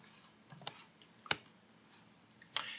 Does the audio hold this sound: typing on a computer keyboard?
yes